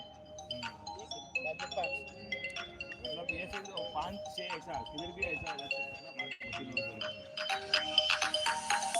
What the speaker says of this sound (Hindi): Incoming call from CC credit card customer identified by Truecaller.